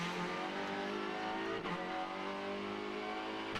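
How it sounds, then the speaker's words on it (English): High-pitched race car engines scream continuously, heard on board during free practice at Macau, revving steadily with a brief dip as a gear changes partway through. "You can really hear the engines."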